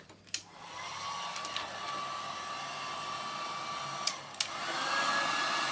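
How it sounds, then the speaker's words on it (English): A hot air gun blows steadily to heat shrink tube on the butt of a Zziplex fishing rod. The close, even whooshing hum continues for several seconds, with a few sharp clicks from handling. "Hot air gun."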